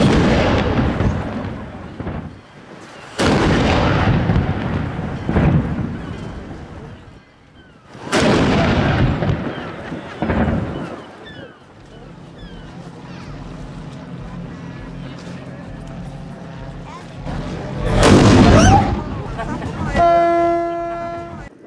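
A cannon salute fired by the Aalborg cannon team opens the Tall Ships Races 2019 in Aalborg: several loud, booming shots with rolling echoes, spaced a few seconds apart, followed by a ship's horn blast at the end.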